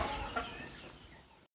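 Hens and chicks cluck inside a dim poultry shed at feeding time, a soft, busy murmur of overlapping calls that runs steadily before a brief silence near the end.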